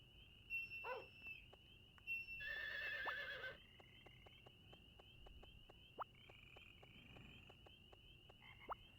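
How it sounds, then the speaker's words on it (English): A horse in the Nintendo 64 farming game Harvest Moon 64 gives a short electronic whinny, with a brighter burst of game sound in the middle, over a steady chirping game background and regular soft ticks. "Find my horse."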